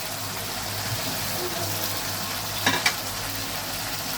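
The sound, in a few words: spices frying and stirred before adding cauliflower and potatoes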